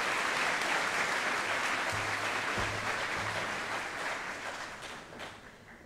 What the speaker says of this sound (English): Would you please give a round of applause to the Exercise Science Rehab Therapy class of